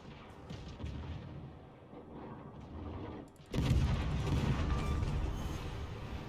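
Naval artillery in the video game World of Warships Legends, played on PC, rumbles with heavy, booming shots. The sound drops away briefly, then a louder, sustained roar of gunfire follows with no talking over it.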